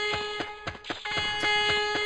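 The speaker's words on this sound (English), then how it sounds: "the music was a lot nicer to listen to than this alarm" A repeating alarm from the video game Jedi Knight: Mysteries of the Sith blares steadily as a loud, sustained tone, with pulsing bursts layered over it throughout.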